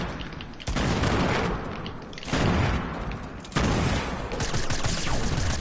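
Gunfire and explosions from a shooter video game come in three loud, dense bursts of rapid shots and booms, each followed by a short dip before the next barrage.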